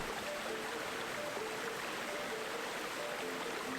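Steady rushing water flows through sewers in the video game Octopath Traveler, a constant broadband wash with a faint repeating melodic tone above it.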